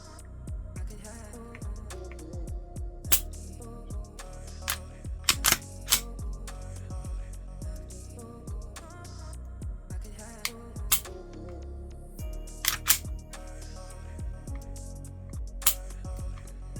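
Trigger of a Husan Arms MKA919 TR2 shotgun with a compensator bolted to the frame, dry-fired in a string of sharp, close clicks at irregular intervals over a low background hum, with no speech.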